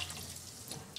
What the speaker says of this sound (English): I start with wetting my rag.